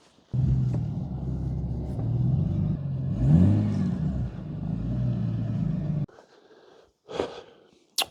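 A BMW E46 330ci engine rumbles steadily at close range for several seconds as it drives into a garage, revving once, then cuts off, followed by a few short clunks.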